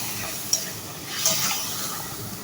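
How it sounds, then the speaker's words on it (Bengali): Ground cumin and other spices fry in a pan while being stirred and cooked down for a Bengali dish, giving a soft, steady sizzle with a couple of brief scraping stir sounds, fairly faint and close. "মশলাটাকে আমি খুব ভালোভাবে কষিয়ে নিব।"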